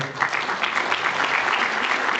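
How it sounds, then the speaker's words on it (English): A seated audience applauds a discussion panel, a dense, steady burst of many hands clapping at mid distance, sustained evenly without speech. "a round of applause for our panel"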